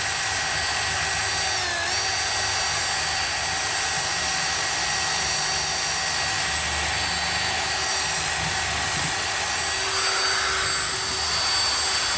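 A 1950s Fairbanks Ward drill press runs with a steady, loud motor whine and dense mechanical hum. The tone holds constant throughout, and the bit's pitch dips briefly early on, as if under load.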